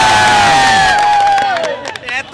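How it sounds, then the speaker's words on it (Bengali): A crowd at a gathering honouring a rice-hotel owner cheers and whoops loudly, voices rising together then breaking into scattered shouts and a few claps near the end. "আর কি আমরা কি একটা করতালি দিতে পারি না?"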